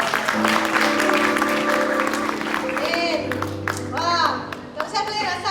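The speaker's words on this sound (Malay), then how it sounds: "Tepuk tangan juga untuk pengurusi kita" An audience at a Christian youth camp session gives loud, dense applause for about three seconds. Music and a voice then rise over the thinning clapping.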